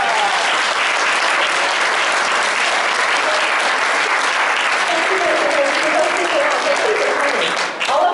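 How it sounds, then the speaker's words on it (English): A large audience applauds at a community celebration marking a town's centennial, with dense, steady clapping filling the room for the whole stretch and easing off only briefly near the end. "Give them all a big round of applause."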